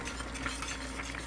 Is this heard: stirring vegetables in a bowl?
yes